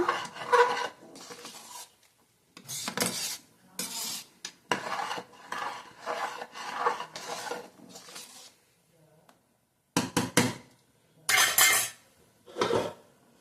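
Metal spoon scraping and clanking against a pressure cooker pot as ghee is mixed into avarekalu pulao, in repeated bursts with brief pauses between rounds of stirring, close and fairly loud.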